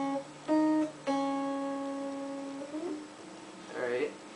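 An acoustic guitar plays the closing phrase of Happy Birthday: two clear strums ring out and sustain, then a short voice speaks near the end.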